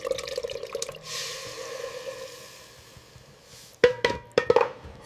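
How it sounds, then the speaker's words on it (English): A blended pepper mix is poured into a pot of frying egusi for Nigerian egusi soup, giving a soft wet trickle that ends in a few sharp splashing drips and plops near the end. "Next, pour in your blended pepper mix."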